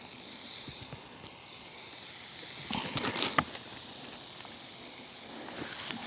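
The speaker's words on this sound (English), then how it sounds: "Let's hear it. Yeah, sizzle, yeah." Locally made back bacon sizzling over a charcoal grill outdoors, a steady soft hiss that swells briefly with crackling spits midway, heard close and fairly quiet.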